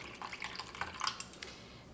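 Water poured into a creme brulee water bath in a baking dish, light close splashing and dripping, soft and brief, with no voices.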